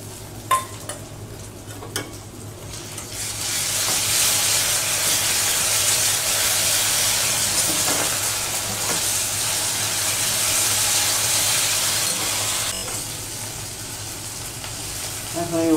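Ginger garlic paste fries in a pan for raw banana kofta. A few light clicks come first, then a continuous loud sizzling hiss builds and holds steady close by.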